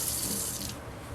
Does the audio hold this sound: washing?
yes